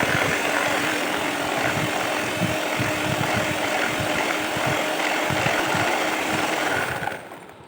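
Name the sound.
blender blending taal cake batter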